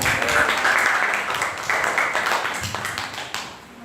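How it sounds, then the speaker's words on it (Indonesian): A classroom of students clapping together during a lesson, brisk mixed handclaps at moderate loudness that gradually thin out and fade near the end. "tepuk tangan untuk semua ya"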